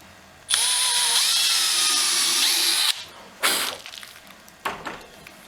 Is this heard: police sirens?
no